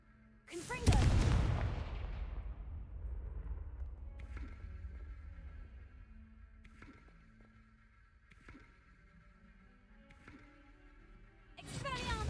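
The Confringo blasting spell in Hogwarts Legacy lands with one loud, booming explosion that rumbles away, followed by quieter thuds and a second blast building at the end.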